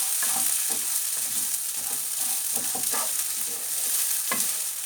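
Rice stirred and fried in a pan for a Turkish pilaf, a steady sizzle with repeated scraping stirs close by, no talk.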